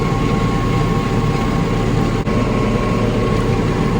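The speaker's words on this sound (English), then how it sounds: "Here's my coworker running the land plane." A tractor pulling a land plane across a crop field, a steady low engine drone with broadband rumble that holds constant throughout, heard from nearby without any voices.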